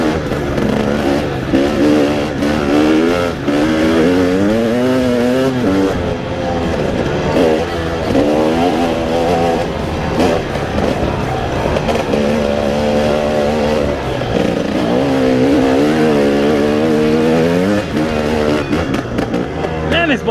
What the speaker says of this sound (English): Man, this bike's rowdy!